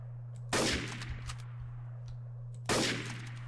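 Two loud, sharp gunshots from a rifle in the video game Garry's Mod, Trouble in Terrorist Town, spaced about two seconds apart over a steady low electrical hum.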